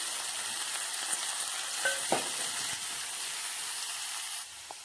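Cabbage frying in a pan, an even hissing sizzle with a few scraping stirs and a utensil clink, fading slightly at the end.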